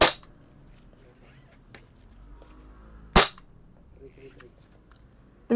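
A VFC SIG P320 M17 gas blowback airsoft pistol fires BBs: two sharp, loud snapping shots about three seconds apart, plus a third at the very end, with quiet room sound between.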